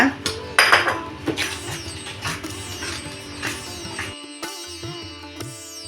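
Metal utensil clinking and scraping around a bowl while flour batter is stirred, busy clattering that thins out near the end, with faint voice in the background.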